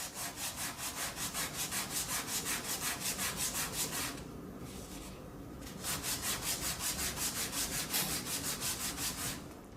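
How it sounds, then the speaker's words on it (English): Sandpaper wrapped around a sanding block rubs back and forth across wood in even, rhythmic strokes, close and fairly quiet, pausing briefly midway before the steady scratching resumes; no voices. "wrap the sandpaper around a sanding block like this, and hold it firmly"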